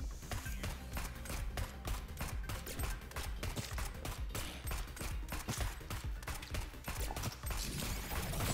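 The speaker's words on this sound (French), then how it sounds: "fleur, tire automatiquement des balles qui se divisent sur les ennemis à la mort" Rapid automatic gunfire from the Neon Abyss video game, dense and continuous bursts of shots crackling steadily throughout, loud and close with no pauses.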